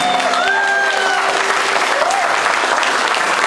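A church congregation at a religious wedding claps steadily and loudly throughout, a dense, continuous applause filling the space, with faint sung or held tones threading through the start.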